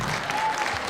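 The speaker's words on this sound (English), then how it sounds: "That's a clap." Brief crowd applause at an awards salute to women truck drivers, a short burst of many hands clapping at a moderate, steady level.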